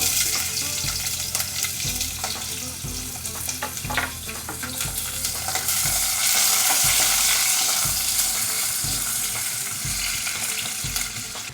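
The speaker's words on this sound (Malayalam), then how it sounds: "എണ്ണ ചൂടായി, അത് ഞാൻ സവാള ഇടാൻ പോവാണ്." Sliced onions fry in hot oil inside a pressure cooker while cooking chicken curry. A loud, dense sizzle runs throughout, punctuated by repeated scraping and stirring knocks, with no talking.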